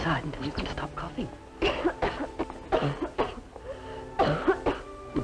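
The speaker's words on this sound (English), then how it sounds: "Until you can stop coughing." Several harsh coughs come in bursts, mixed with talking voices, fairly close and moderately loud.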